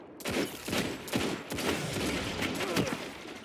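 Rapid gunfire in Destiny 2 player-versus-player combat, with a dense volley of shots fired in quick succession, loud and continuous throughout.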